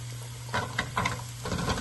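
Carrots and potatoes hit hot oil mixed with turmeric and sizzle softly, with a steady frying hiss broken by short stirring clatters.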